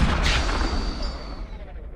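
A house blows up in the film Fresh Meat after the kitchen stoves are left on, a loud close boom that rolls into a long fading rumble and crackle.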